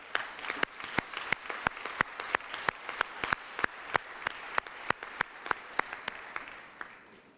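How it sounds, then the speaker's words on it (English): A conference audience claps at the closing ceremony of an ITU plenipotentiary meeting, sharp distinct claps in a fairly regular rhythm over a faint room background, fading slightly at the end. "Please also give them a warm round of applause."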